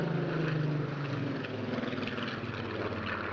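A Supermarine Spitfire Mk 19, powered by a 2,000 horsepower Griffon 65 or 66 engine, flies at the 2022 Eastbourne International Airshow, its piston engine giving a loud, steady, rumbling drone throughout with no voices.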